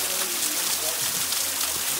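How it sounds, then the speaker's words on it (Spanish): Steady rushing rainwater pours continuously, a broad hissing splash like a small waterfall close by, at a waterfall in Ensenada. "Es algo relajante escuchar el agua caer."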